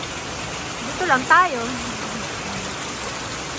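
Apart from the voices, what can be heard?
heavy rain falling on a deck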